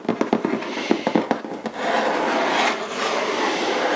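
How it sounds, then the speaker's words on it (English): Scratchy rubbing on the back of a cardboard box: a few quick separate scrapes, then a steady continuous rasping scratch, close up. "The back makes a really cool sound."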